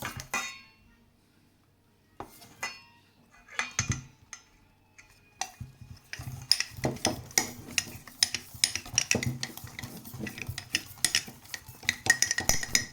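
A spoon stirs melted chocolate in a bowl for a chocolate cake, giving sparse clinks and scrapes at first that turn into busier, continuous scraping and tapping against the bowl. No one speaks.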